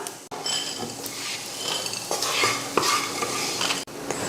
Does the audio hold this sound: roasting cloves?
yes